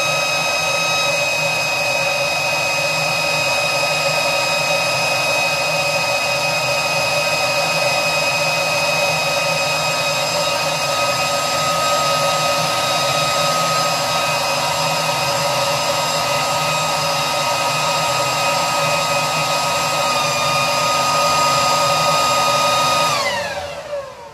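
A homemade flow bench runs a baseline airflow test, a loud steady motor roar and rushing air with sustained whining tones holding for over twenty seconds before winding down at the end.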